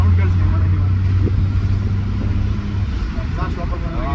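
A car engine idles steadily with a deep, continuous low rumble and exhaust drone, loud and close throughout, with people talking over it.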